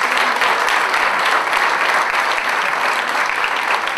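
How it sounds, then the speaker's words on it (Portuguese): Steady, dense applause from an audience at a sports gala for athletics and adapted sport in Tâmega, Portugal, sustained and loud for about four seconds with no speech over it. "Um forte aplauso para eles."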